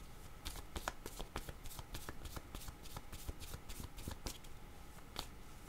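Tarot cards are shuffled and drawn by hand, producing a dense stream of quick, soft riffling flutters and snappy card flicks, close and steady, with no voice heard.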